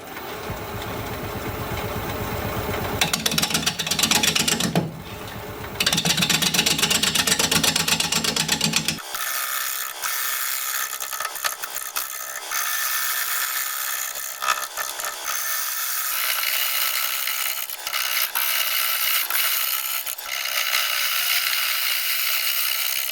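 A wood lathe turning a Gravenstein apple bowl at 490 RPM, giving a steady mechanical whir with changing tones and bursts of rasping tool cuts against the wood, loud and close throughout.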